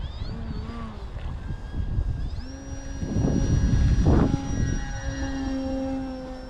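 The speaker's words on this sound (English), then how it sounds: "Notice when I stab the throttle, you get a big bunch of thrust in the back there." A Prime Tundra floatplane taxiing on water rises to a roaring burst of engine thrust as the throttle is stabbed, then eases back to a steady drone.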